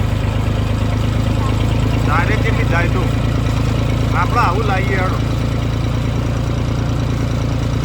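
A tractor engine idles nearby with a steady low rumble throughout while people talk loudly over it outdoors on a farm.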